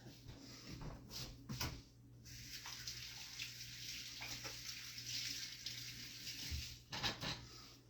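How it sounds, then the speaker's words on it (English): Tap water runs at a sink while hands are washed, a continuous rushing stream with a few knocks and splashes, quiet and fairly close. "I'm gonna set those aside and wash my hands."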